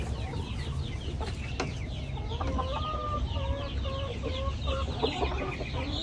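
Imported chicken breeders on a free-range farm cluck and call in short repeated bursts over steady outdoor background noise, fairly close.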